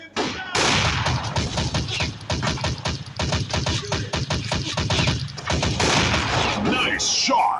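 Rapid, evenly spaced shots ring out almost continuously in the sniper shooting game Blazing Sniper, loud and close, with a short pause partway through and sparse talk in the background.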